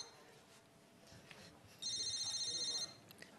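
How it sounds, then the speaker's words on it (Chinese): A telephone ringtone chirps for about a second in a quiet room during a comedy sketch, bright and warbling, following soft background noise. "你电话？ 谁电话？ 你电话。"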